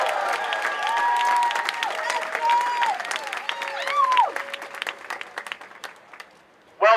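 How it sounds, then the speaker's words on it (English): Crowd at a Seattle global climate strike rally applauds and cheers a speaker, a steady wash of clapping with voices whooping and shouting over it, fading toward the end. "Everyone give him a round of applause."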